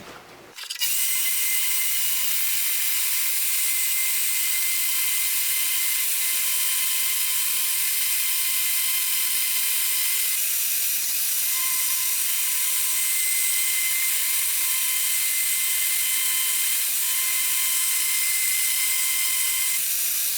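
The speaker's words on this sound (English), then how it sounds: "now I'm going to be cutting it to shape on my bandsaw" A bandsaw cutting a sanmai steel billet into a knife shape, starting abruptly and then running as a loud, steady, close high-pitched whine with a continuous hiss of blade on metal for about twenty seconds, with no talking.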